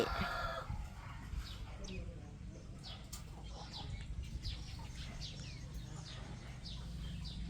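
Chickens cluck and a rooster crows at a distance around a rural backyard vegetable garden in Buriram, Thailand, with repeated short calls scattered over a low steady background hum.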